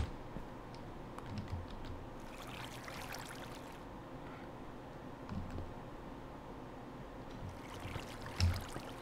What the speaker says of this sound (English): The next one is the flowing water.